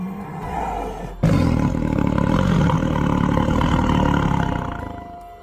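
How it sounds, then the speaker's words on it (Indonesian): A tiger roar sound effect bursts in suddenly and loudly, a long sustained thundering growl that swells and then slowly fades out. "Suara auman itu menggelegar, memekakan telingaku."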